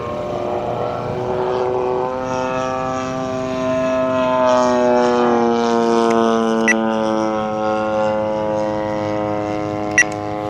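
A Seagull Models Gilmore Red Lion RC plane with a 74-inch wingspan and a 35cc gas engine flies on its maiden flight, its steady propeller drone rising and falling in pitch as it passes, heard from a moderate distance with no voices.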